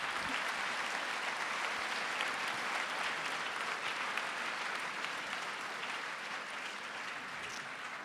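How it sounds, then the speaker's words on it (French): Sustained crowd applause at the Prix Liliane Bettencourt pour l'Intelligence de la Main award ceremony, an even wash of many hands clapping at moderate distance, fairly soft and unbroken throughout. "merci de vos applaudissements"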